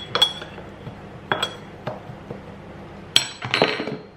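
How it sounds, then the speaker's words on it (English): A spoon clinks against a glass bowl while flax seed is stirred in, a handful of sharp separate taps spaced over a few seconds, ending in a quick flurry of scraping clinks. "give it a bit of a mix."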